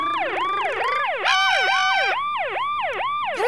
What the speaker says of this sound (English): sounded a bit like another kind of siren.